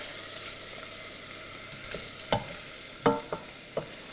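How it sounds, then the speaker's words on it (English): A spoon stirs dried oregano into a quietly sizzling pan, a soft steady fry underneath a few distinct scrapes and knocks against the pan, close and unaccompanied by talk. "So we've got some dried oregano going in there. Just give that a bit of a stir."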